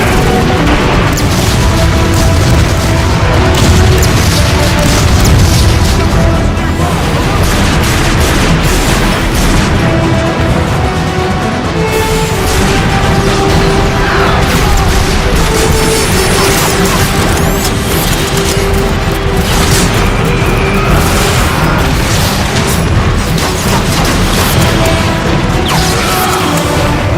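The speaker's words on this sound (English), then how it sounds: "shelling the plaza! It's coming from that warp cannon." Warp cannon shelling a plaza in Transformers: Fall of Cybertron, a dense, loud barrage of booms and crashing impacts rolling on continuously, with rubble and debris bursts layered throughout and no clear gaps.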